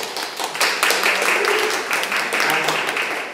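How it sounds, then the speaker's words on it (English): Applause from a conference audience at a health movement gathering, a dense steady patter of many hands clapping together for a few seconds, moderately loud and fairly close. "round of applause"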